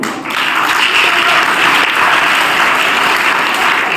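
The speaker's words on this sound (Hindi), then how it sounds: "बहुत बहुत ताली बजाओ इन बच्चों को" Sustained applause from schoolchildren at a school gathering, dense and steady throughout, loud and close with no talk over it.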